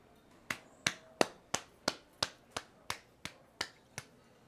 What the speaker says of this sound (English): It's the most pathetic applause in the world, Harry, made of pity.